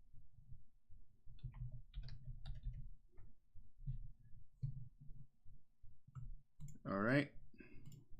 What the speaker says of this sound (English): click over here and it saves automatically